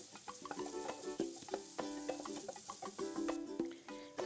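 Noodles stir-fried in a wok over a high flame with cabbage, restaurant style, giving a steady loud sizzle broken by repeated clattering strokes of a spatula against the pan throughout.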